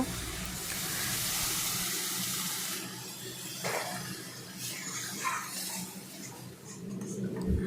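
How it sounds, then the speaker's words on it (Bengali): Water poured into semolina upma in a pan, a steady rushing pour for the first few seconds followed by quieter bubbling and soft stirring sounds, close by with no talk. "এরপরে আমরা পরিমাণ মতো জল দিয়ে নেব।"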